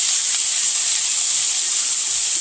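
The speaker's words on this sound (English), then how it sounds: "Saute this until your ham looks all golden brown and your onions are soft and translucent" Ham and onions sizzle hard in a pan over high heat, a loud, steady, bright hiss that holds without a break.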